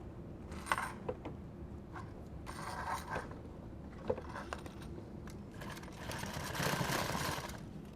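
A sewing machine stitching nylon tactical gear runs in several short bursts with pauses between them, giving a close mechanical whir over a steady hum. Small clicks and handling noises come through, and no one speaks.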